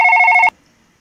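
A telephone rings loudly in the horror video game One Late Night, a single short electronic trill burst that cuts off abruptly after half a second, followed by near silence.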